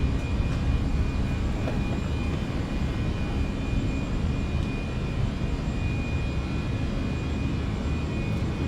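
An Airbus jet roars steadily through its takeoff and climb in a flight simulator, with continuous loud engine noise that holds with no talk over it.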